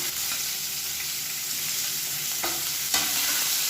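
Whole spices and chopped onions fry in oil with a continuous, close sizzle and soft stirring scrapes, with a couple of brief clinks toward the end.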